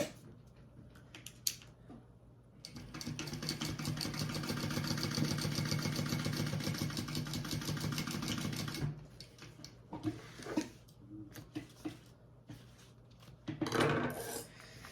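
A sewing machine stitches a fabric seam in a single sustained run of rapid, even needle strokes, close and fairly loud, followed by light clicks and rustling as the work is handled.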